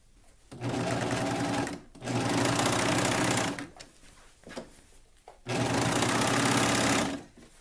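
A sewing machine stitches a tankini top in three steady whirring runs, close and loud, each lasting one to two seconds, separated by short pauses with small clicks and fabric handling.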